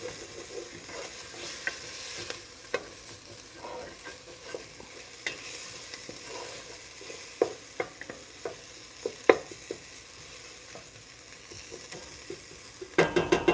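Cioppino base sizzling in a pan over lower-than-medium heat during deglazing, a soft continuous fry with repeated scraping and stirring clicks of a utensil against the pan, a quick rattle of taps near the end.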